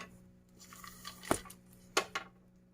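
Fried peanuts tipped into poha in a pan make a few brief clattering rattles and clicks against the metal, quiet and close, separated by short pauses.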